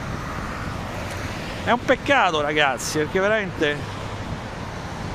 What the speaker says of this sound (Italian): mazza il vento